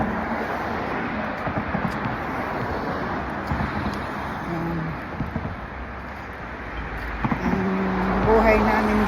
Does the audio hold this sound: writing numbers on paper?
no